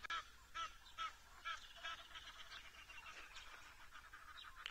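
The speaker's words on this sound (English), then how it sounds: "Yes, Egyptian geese, I can hear you." A flock of Egyptian geese honks repeatedly, with distinct loud calls in the first two seconds that give way to a steady, busy chatter of honking as they pass by.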